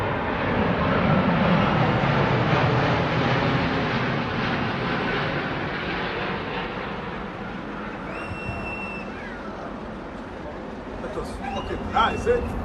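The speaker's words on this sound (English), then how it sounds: "This private jet doing a flyby just a few feet overhead." A private jet makes a low flyby just overhead, a loud rushing roar that swells and then slowly fades, with thin whistling tones toward the end and people's voices mixed in.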